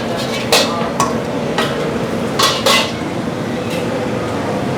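Squid already seasoned, tossed in a pan during a flambé at a busy food stall, with repeated metal clanks and scrapes of utensils on the pan over a steady sizzling, crackling background.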